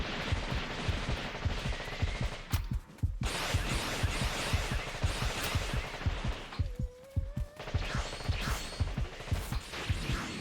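Rapid gunfire from a Dragon Ball video game character, a dense stream of loud repeated shots and impacts running almost nonstop, with brief gaps and a whooshing effect near the end.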